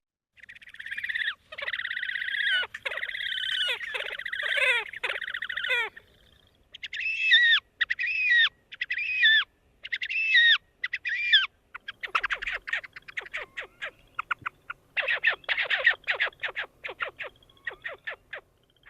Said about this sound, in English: Horned grebe, you'll see these guys in pairs on small ponds during the breeding season and has a much more raspy whinnying call.